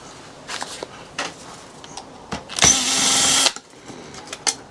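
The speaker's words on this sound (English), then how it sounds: "So I think I'm going to have to probably drill them out." A power drill works at stubborn screws inside a line voltage simulator, one loud whining burst of just under a second amid scattered clicks and handling knocks.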